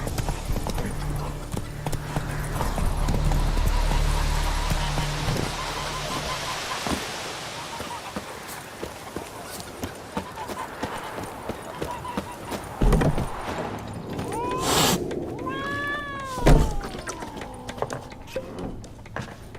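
Horse hooves clip-clop and gallop in The Witcher 3: Wild Hunt, a steady rhythmic beat mixed with ambient game sound, with a horse whinny and brief spoken dialogue later in the scene.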